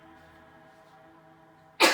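A single sharp sneeze bursts out at the very end, loud and close, after a near-silent stretch with only a faint steady hum, during a weekly tarot reading.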